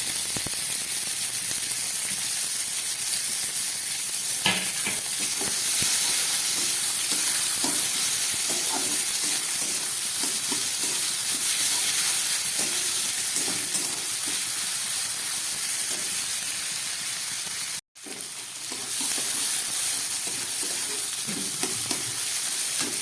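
Tomato and onion fry with ginger, garlic and green chilli in a pan for a broccoli dish, giving a constant steamy sizzle with repeated scraping and rattling stirring strokes and a short break near the end.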